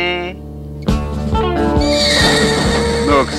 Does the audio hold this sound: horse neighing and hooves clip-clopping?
yes